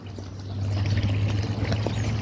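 Water runs steadily from a hose pipe into a pit in a farmyard pen, a continuous close pouring and trickling with a low hum underneath.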